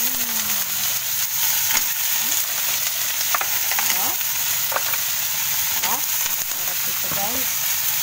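Kahong shellfish sizzles steadily in a hot frying pan, a broad continuous hiss with scattered crackles and occasional stirring scrapes close by.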